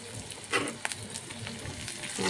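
Pabda fish fries in a pan for a spicy jhal curry, giving a faint, steady crackling sizzle with occasional sharper pops and scrapes nearby, with no voices.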